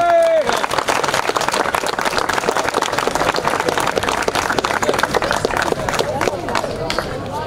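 Loud, dense applause greeting the first-place trophy winner at the Valea Uzului motorsport trophy award ceremony, steady crowd clapping throughout with cheering and babble mixed in.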